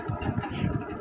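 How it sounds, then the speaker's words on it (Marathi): A deep-sea fishing boat off Ratnagiri chugs along on one of its two engines, a low, steady rumbling drone heard briefly and up close. "आता सध्या एक इंजिनवरच चालूच आहे ना."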